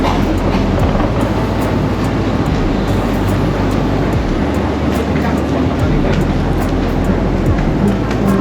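Metro train in Bangkok rumbles past loud and close, a continuous roar of wheels and carriages with faint rhythmic clicking under steady, dense noise.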